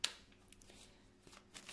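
Tarot cards being handled for a reading give a sharp flick at the start, then faint, soft rustles and slides, very quiet and close.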